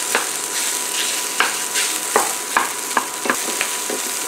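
Sausage sizzles loudly in a hot pan while being broken up and browned with a utensil, a steady frying hiss punctuated by repeated close scraping and stirring strokes.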